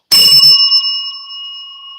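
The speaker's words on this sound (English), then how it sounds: "There's the bell." A single sharp bell strike, loud and close, ringing on with a clear sustained tone that slowly fades over about two seconds.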